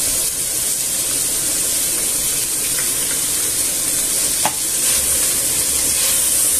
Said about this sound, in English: once the meat is nearly browned all over, I'll add the garlic cloves in